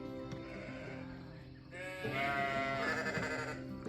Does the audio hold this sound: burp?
no